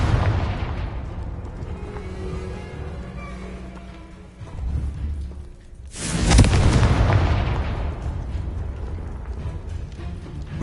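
Confringo fire spells from the video game Hogwarts Legacy burst in booming explosions, one soft thump midway, then a big loud blast around six seconds that rumbles and fades over muffled combat noise.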